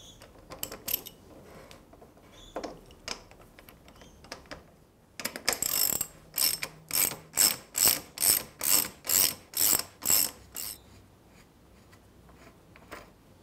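A ratchet wrench loosens the caliper locating pin on a Moto Guzzi Breva 750, giving scattered clicks and then a close, loud run of about nine rhythmic ratcheting strokes.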